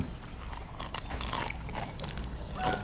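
Crunchy bites into a fried chive dumpling with a crisp wrapper, a few close crackling crunches and chewing sounds over about three seconds, with no talking.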